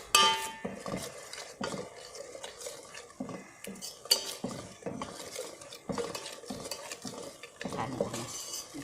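Thai red fish head curry cooks in coconut milk with no oil, a close, busy mix of thick popping bubbles, spoon clatter and scraping against the pot, uneven and fairly loud, with no talking.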